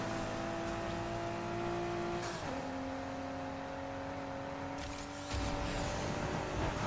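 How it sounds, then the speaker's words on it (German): Steady drone of a turbocharged car engine in the Need for Speed Heat racing game, holding a constant pitch that dips slightly as it shifts, moderately loud and continuous with no voices. "Wir haben ja das sonore Säuseln unseres Turboladers."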